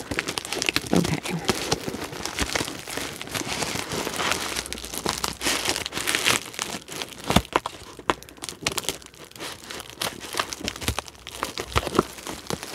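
Paper crinkles and tears close by as a mail package is opened, with continuous rustling, crackling handling and sharper rips scattered throughout at a moderate level.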